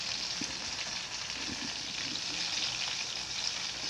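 Chicken bajji sizzles in hot oil with a steady, even crackle and hiss and small pops throughout, close and moderately loud, with no talking.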